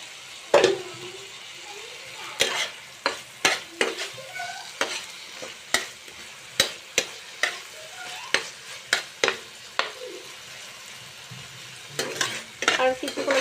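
Potatoes fry and sizzle in a spice masala in a pan, with a spoon scraping and stirring in repeated sharp strokes over a continuous low hiss.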